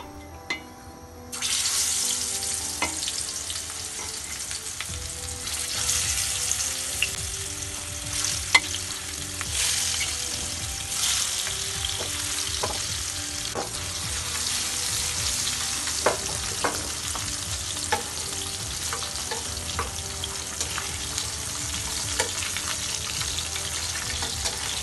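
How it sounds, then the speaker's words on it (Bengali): Rohu fish pieces fry in hot oil with a steady close sizzle that starts abruptly and runs on, broken by scattered sharp pops and crackles. "আর আমি প্রথমে রুই মাছগুলো তেলে ফ্রাই করে নেব।"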